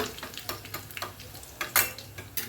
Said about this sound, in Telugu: అందుకని ఇప్పుడు వెల్లుల్లి వేస్తాను అనమాట తాలింపుకి.